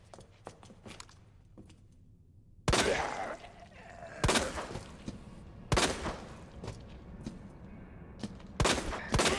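Handgun shots in Resident Evil 2 Remake ring out loud and sharp, five separate blasts spaced a second or two apart, each with a brief echoing tail over quieter footsteps and ambience.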